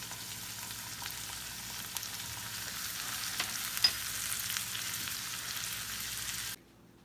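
Garlic sautéing with softened onions in a pan over lowered heat, a steady faint sizzle running evenly with a few soft stirring clicks before it cuts off near the end.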